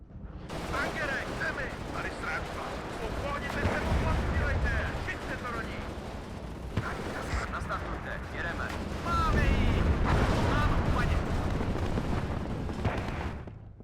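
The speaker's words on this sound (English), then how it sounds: "Our artillery is just flooding on the left side now." Czech artillery barrage in the war strategy game WARNO: dense, continuous rumbling volleys of gunfire and explosions that swell louder midway, with someone talking over the din.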